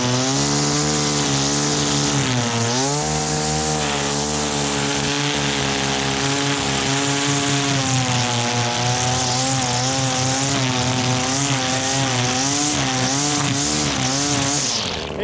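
An ECHO gas string trimmer screams close and loud while being bogged under load, its engine pitch sagging and recovering in waves across a sustained run.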